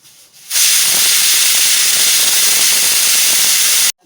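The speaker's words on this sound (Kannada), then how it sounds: "ನಾನು ಇನ್ನೊಂದು ಈರುಳ್ಳಿ ಇತ್ತಲ್ಲ ಅದು ಸ್ವಲ್ಪ ಸುಟ್ಕೊಳ್ತೀನಿ" An onion roasts directly over a gas stove flame, a loud steady roaring hiss that starts abruptly, holds evenly for a few seconds, and then cuts off, with no talking.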